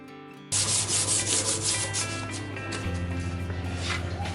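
Sandpaper rubs back and forth over disassembled Honda Super Cub parts in a steady, close, rhythmic rasping that starts abruptly and keeps going with no one talking.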